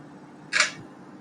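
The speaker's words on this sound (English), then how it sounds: "And then I can go ahead and take this picture right here." A single crisp mechanical film camera shutter click in a photo studio, short and close, in an otherwise quiet room.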